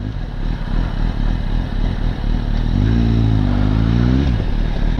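A BMW K75 cafe racer motorcycle idles close and loud, then its engine revs up into a rising, steady whine for about a second before dropping back down.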